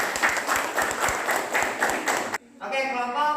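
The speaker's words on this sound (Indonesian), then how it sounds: "Oke, kasih tepuk tangan untuk kelompok negara Malaysia." Classroom applause from students for a group presentation in a lesson, a dense burst of clapping that stops abruptly, followed by a teacher's voice speaking.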